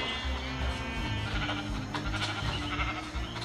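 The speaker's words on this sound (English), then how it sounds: "There's some more sheep." Sheep in the Minecraft video game give several clear bleats close by, with no talk over them.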